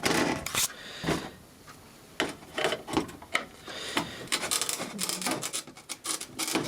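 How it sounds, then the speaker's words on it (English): A screwdriver scrapes and pries at a BGA chip on a printer circuit board during a board strip, giving a series of sharp, close rasping and cracking bursts separated by short pauses. "Bit violent with a screwdriver, but I got it off."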